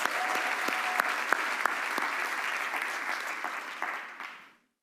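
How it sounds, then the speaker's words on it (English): A school convocation audience applauding a choir, dense and steady clapping from a large crowd that carries on for several seconds before fading out. "Let's give our choir another round of applause."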